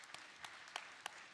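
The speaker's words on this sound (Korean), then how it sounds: "박수로 축복하겠습니다." A church congregation applauds during a Sunday worship service, heard faintly and at a distance as a soft wash of clapping with a few distinct sharper claps standing out.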